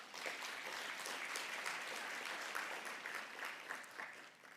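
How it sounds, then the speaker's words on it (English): Audience at the BPI Iconic Leadership and Excellence Awards 2025 ceremony gives a warm, sustained round of applause for the nominees and recipient. The dense clapping stays steady and even throughout, with no talk over it. "May I invite to give warm and round of applause as well to the nominees and the recipient of this particular this year award."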